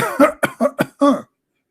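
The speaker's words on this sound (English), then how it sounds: "Okay, I will cough more." A run of five harsh, forced coughs in quick succession, close and loud, the last one longer and drawn out, followed by silence.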